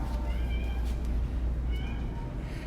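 Several cats at a cat adoption facility in Sarasota, Florida meow at feeding time, two or three short high calls over a low steady rumble of background noise, moderately close.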